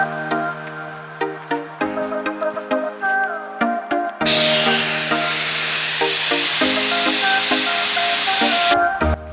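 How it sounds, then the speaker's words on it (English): Air hisses steadily and loudly from tires being deflated with a Thor's Hammer four-tire inflation-deflation system on a 2024 Toyota Tacoma, preceded by several short knocks and rattles. "Now it's time to air down with a Thor's hammer and 4-tire inflation-deflation system from Thor's Lightning."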